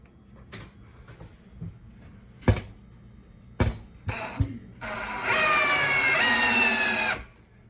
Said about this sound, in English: Got my drywall screws up there, and I'm gonna go ahead and hang that bracket.